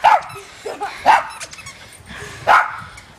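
A dog barks in short sharp bursts, four or so loud close barks spaced irregularly with quieter yips between.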